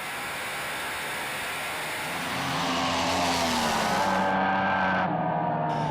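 A drag racing car launches down the strip, a loud engine roar that swells and climbs in pitch as it accelerates, then cuts off abruptly near the end, with no voices.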